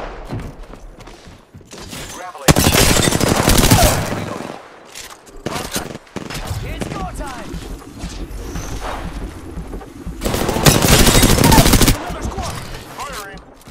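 Gunfire in the Apex Legends video game: loud sustained automatic bursts roughly two seconds long near the start and again toward the end, with scattered shots and thuds in between and game voices heard in the gaps.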